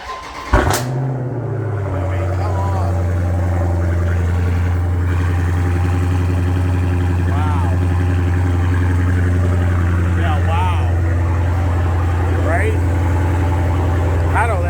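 A Dodge Challenger Smoke Show starts with a sharp crank and catch, then settles into a loud, steady, deep idle heard up close, with a few faint voices over the rumble.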